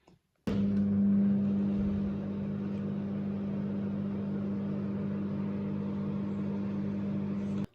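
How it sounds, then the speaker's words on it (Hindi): A microwave oven heating coffee starts with a click and runs with a steady low hum and whirring drone for several seconds, then ends with another click. "इसको हम ओवन में रखते हैं।"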